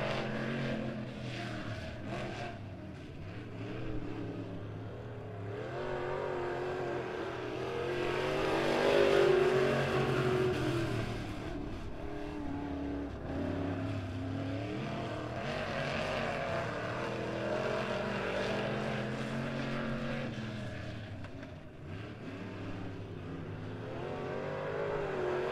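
Super stock race cars power down the backstretch at Bolivar Speedway, engines droning and swelling to a loud peak before easing off, with a steady engine roar continuing throughout and no talk.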